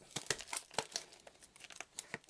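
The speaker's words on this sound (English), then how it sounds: "And we'll just open up the cellophane." Cellophane wrapper crinkles and tears as it is pulled off a Magic: The Gathering Amonkhet card box, a close, quiet string of sharp crackles and rustles with no talking.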